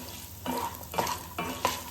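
Grated coconut dry-roasting with spices in a pan for South Indian coconut chutney, a soft sizzle broken by four evenly spaced scraping strokes of a spoon stirring.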